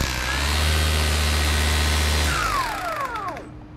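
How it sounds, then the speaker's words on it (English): A Stihl FSA 135 R battery trimmer with string fitted runs loud and close on its lowest power setting, a steady electric whine that then winds down as the motor stops. "Let you hear the strength of the motor. So on 1 with the string on"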